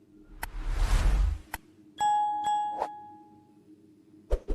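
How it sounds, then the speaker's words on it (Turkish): A payment notification chime plays on a phone during an online payment, a few clear, bright ding tones with a ringing tail that follow a short whoosh, loud and close, with no talk over it. "Bana bildirim geldi şu anda."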